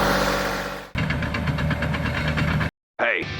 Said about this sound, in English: Big old Bobcat.